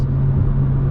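Steady, loud low-frequency engine drone inside the cabin of a BMW M2 while driving, a constant boomy hum with no variation.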